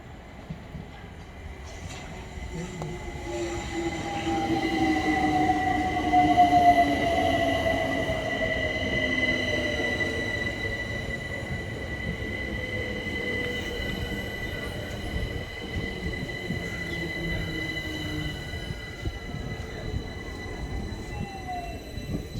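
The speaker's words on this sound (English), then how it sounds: "here's the train just coming in" A train pulls into Kew station, its steady rumble building and then easing as the wheels squeal in long falling tones, fairly close and heard alone.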